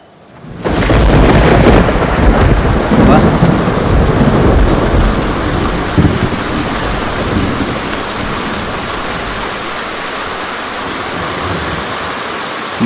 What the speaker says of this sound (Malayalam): മഴ ആദ്യം പെയ്യുന്നത് കുന്നിന്റെ മുകളിലാണ്,